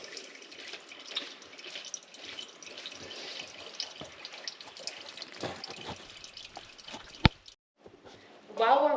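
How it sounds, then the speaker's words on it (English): Engine oil trickling out of a 2022 Can-Am Defender Limited side-by-side into a catch pan, a faint continuous dribble with a few drips and a sharp click near the end. "now we've got a little bit more oil draining out"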